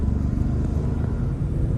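A 2019 Ford Expedition's engine revs at half throttle while merging onto a highway, a steady low rumble heard from inside the cabin with no talk over it.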